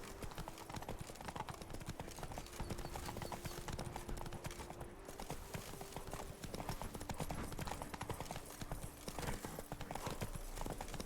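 A horse galloping in The Witcher 3 video game: a fast, steady clip-clop of hooves running throughout, quiet and even, with no voices over it.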